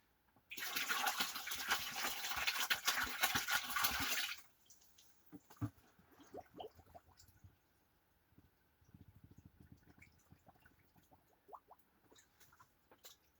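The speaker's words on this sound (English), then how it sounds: "I'm gonna take out a little bit more water." Water pours and splashes out of an ice chest as it is drained, a steady rush for a few seconds, then stops, leaving quiet scattered clunks and small movements.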